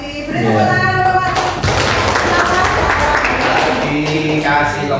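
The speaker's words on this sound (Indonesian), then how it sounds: "Beri tepuk tangan Bapak." Seminar attendees clap together in a short, dense burst, with people talking just before and after the clapping.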